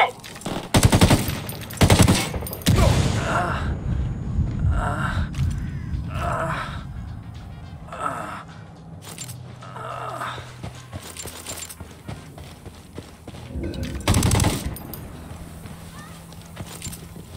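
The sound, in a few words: gunfire in Ghost Recon Wildlands video game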